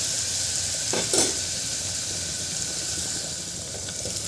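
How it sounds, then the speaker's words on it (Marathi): Green chili and coriander paste sautéed in a pan, a steady close sizzle with occasional stirring scrapes, loud and continuous with no speech. "याचा कच्चेपणा जातपर्यंत याला 2-3 मिनटं आपल्याला छान"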